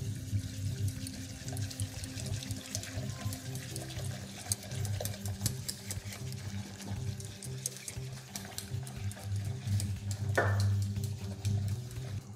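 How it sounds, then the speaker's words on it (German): Asparagus stock is poured into a flour roux for creamy asparagus soup while it is stirred hard, giving a faint, continuous trickle and splash with light scraping and clicking from the stirring. "Jetzt gebe ich den Spargelfond oder die Spargelsuppe dazu und muss direkt ganz kräftig rühren"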